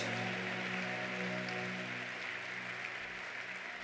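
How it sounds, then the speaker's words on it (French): A church congregation applauds and praises God, a steady wash of clapping with a sustained tonal hum beneath it, at moderate level throughout. "please put your hands together and give God praise"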